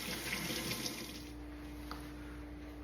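Running water from a tap splashing steadily as hands are rinsed under it, a constant close wash with no talk.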